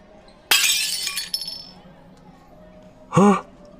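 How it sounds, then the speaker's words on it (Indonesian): A ceramic plate breaks in a sharp, loud crash with a glassy tinkling tail, played back from a voice note inside the Sakura School Simulator game, followed by a brief voiced sound. "Masa hantu nelpon cuma buat muterin suara piring pecah?"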